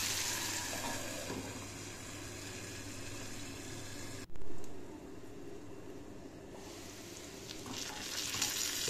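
Onions sizzle slowly in a pan over low heat, a soft, even hiss that runs throughout, broken by one brief clunk midway.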